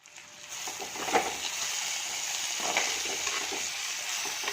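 Onions sautéing in a pan in a home Kerala kitchen, a steady soft sizzle with occasional stirring scrapes and clinks, close and fairly quiet, no talking.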